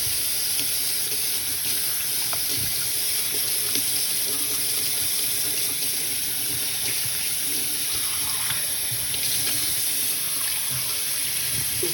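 Hot water runs steadily from a kitchen tap, a continuous close hiss and splash with no breaks.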